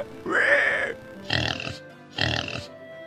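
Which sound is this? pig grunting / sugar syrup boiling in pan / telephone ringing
pig grunting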